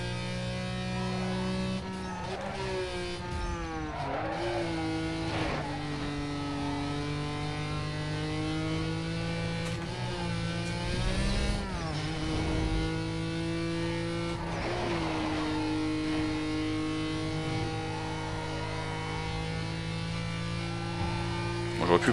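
Engines racing in Need for Speed Most Wanted 2005, a little Clio against a Porsche, with sustained whining revs that rise and fall through gear changes, under occasional talk.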